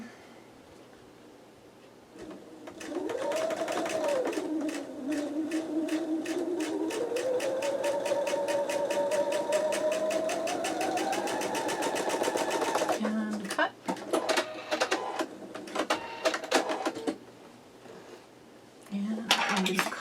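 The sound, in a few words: sewing machine stitching quilt fabric pieces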